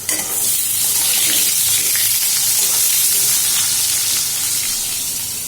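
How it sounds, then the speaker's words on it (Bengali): Potatoes with egg fry in a pan in a home kitchen, giving a loud, dense, continuous sizzle and hiss close by. It holds steady throughout with no voices. "আর এটা ডিমের আলু ভাজা চলছে"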